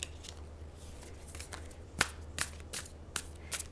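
A tarot card deck is shuffled nearby, giving a run of crisp, papery riffles and snaps that come in short bursts over a steady low background hum, with no talking.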